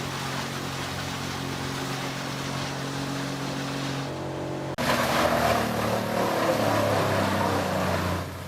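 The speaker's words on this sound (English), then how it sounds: "The Morbark M20, a wood chipper, stands firm amidst the wild landscapes of Scotland, silent in presence, yet roaring with raw power." A Morbark M20 wood chipper runs in the wild Scottish landscape, a steady loud engine drone with a low hum that abruptly jumps louder and harsher midway, as if the engine revs up under load.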